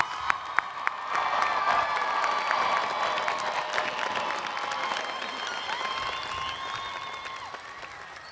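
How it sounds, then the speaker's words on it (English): A large crowd at a high school graduation ceremony for the class of 2022 applauds and cheers continuously, a dense wash of clapping with shouts and whistles that slowly fades. "how about one more round of applause for our class of 2022 graduates?"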